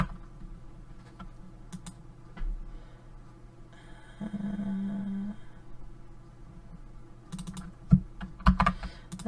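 Scattered keystrokes on a computer keyboard while someone codes in Java, with short bursts of clicks and pauses between them and a low hum underneath, fairly close but soft.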